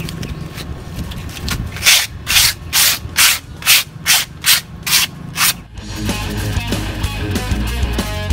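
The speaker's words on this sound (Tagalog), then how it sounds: "Okay, lihain na muna natin. Gamit nating liha is 120." A woodworker rubs 120-grit sandpaper over a speaker-box workpiece in about nine loud, close, rhythmic strokes. The sanding stops abruptly and gives way to steady background noise.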